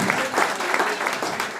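Audience applause at an Atomy India seminar in Indore, a dense burst of clapping from a seated crowd, close and fairly loud, with a voice faintly audible underneath.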